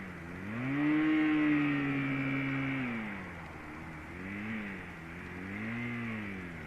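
A motorcycle engine runs continuously while riding, its note swelling to a higher rev early on, then easing and rising again in gentler waves, fairly close with no talking.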